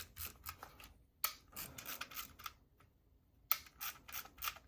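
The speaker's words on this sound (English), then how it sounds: "press this lever right here, which should release the shutter" Several sharp mechanical clicks and snaps of an Olympus XA2 camera's shutter release, arriving in short bursts separated by brief silences, close and fairly quiet.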